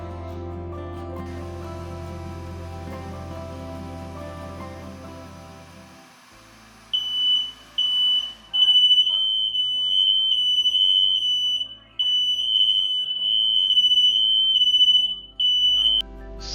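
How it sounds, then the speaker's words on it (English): A smoke alarm, set off while building a PC, chirps in a rapid, steady series of high-pitched beeps, with a brief pause partway through, over a low background hum. "So yes, I triggered the fire alarm."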